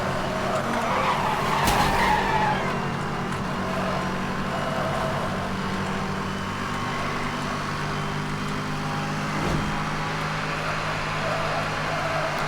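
In Need for Speed: Hot Pursuit (2010), a racing car drives flat out with a constant engine roar and a long tire skid that holds steady the whole time.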